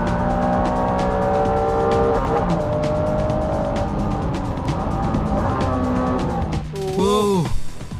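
Dodge Viper race car on a track: its engine drones steadily with shifting tones and changing pitch as it works through corners, closing with a sharp rising and falling whine.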